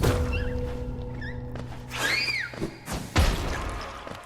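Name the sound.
explosions in Hollow Knight video game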